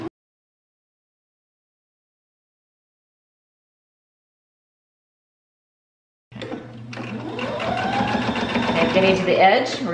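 Sewing machine stitching a seam on a fabric storage bag, starting abruptly after long silence and running steadily as a loud, close mechanical whir with rapid needle clatter to the end.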